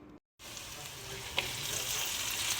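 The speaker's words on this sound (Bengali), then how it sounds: "মিষ্টি কুমড়া ভেজে তার মধ্যে দিয়ে দিচ্ছি হচ্ছে পুঁই শাক।" Pumpkin frying in a pan before Malabar spinach goes in gives a soft, continuous sizzle after a brief silent gap, with a small clatter of stirring partway through.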